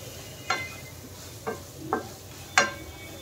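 Spoon stirring turmeric powder into amla pickle masala in a pan over a low flame, four short scraping strokes spaced apart against a faint low sizzle, quiet and close.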